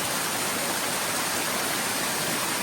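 Constant broadband rushing of a video game waterfall, loud and steady like pouring water, filling the whole stretch without pauses or voices.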